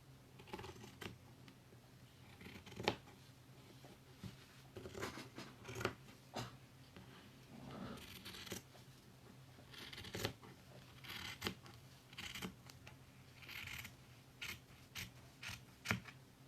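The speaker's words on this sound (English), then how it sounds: "Then take your fabric scissors and just start cutting around." Fabric scissors snip through scrunchie fabric in a steady run of crisp, close cuts with short pauses between strokes, quiet and alone without any talking.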